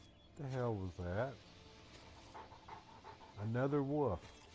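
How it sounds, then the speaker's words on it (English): Dog panting in The Elder Scrolls IV: Oblivion, two bursts of rhythmic, breathy huffing close by with a quieter stretch of background game sound between them. "Oh, it's a dog."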